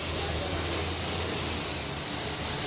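Pieces of eggplant sizzle in hot oil in a pan over a gas flame, a steady, loud hiss with faint crackle running throughout.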